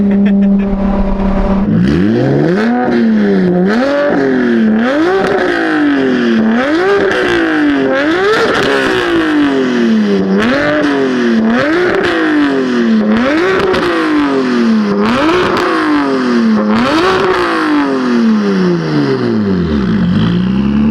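A built BMW M4 engine revs hard over and over, rising and dropping in pitch again and again in a rapid, loud sawtooth rhythm, heard close with no talking.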